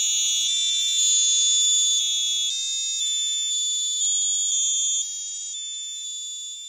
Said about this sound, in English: we should hear the birthday song coming from the groove buzzer over here